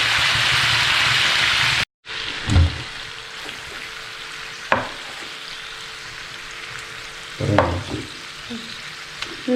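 A wine-braised beef roll sizzles in a pan, a steady close frying hiss broken by a brief cut and several soft knocks and scrapes as it is turned.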